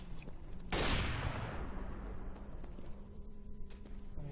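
Gunfire in Counter-Strike: Global Offensive, a sudden loud shot burst with a long decaying tail, followed by a continuous rattle of further in-game fire and background game noise.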